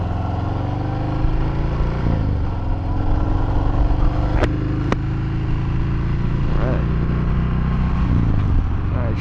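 A Harley-Davidson Fat Bob rumbles loud and close on a first ride, its V-twin engine holding a steady throb with a few rises in revs while a rider talks over it.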